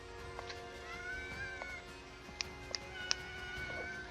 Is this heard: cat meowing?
yes